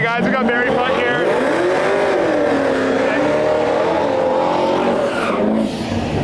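A twin-turbo LS-swapped Volkswagen Jetta drag car at a dragway, loud and close, its engine note rising and falling over several seconds with tire noise under it, and spectators talking.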